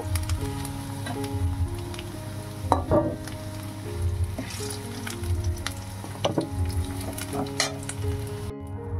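Potatoes frying in oil until deep golden brown: a steady close sizzle with scattered clicks and scrapes of utensils as pieces are lifted out, no talk.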